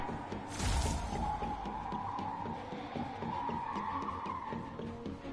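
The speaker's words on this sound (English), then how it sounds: "I can hear that car screeching around" Car tires screech and skid over a steady engine roar in the video game Marvel's Spider-Man, a loud burst early then continuous squealing as the vehicle races around Times Square.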